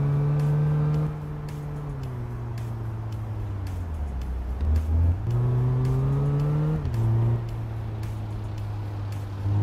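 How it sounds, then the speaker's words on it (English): A car engine revs in the game Big Ambitions with a deep, bassy drone, pitch dipping low mid-clip then climbing again, steady and close with no talking. "it's really surprising how good the car actually sounds"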